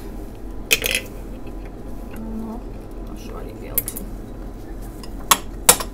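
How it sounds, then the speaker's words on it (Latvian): Glass containers covered with foil clink against one another in a cabinet, a few sharp, bright knocks spread over several seconds while someone talks quietly. "šeit mums arī ir stikla trauki"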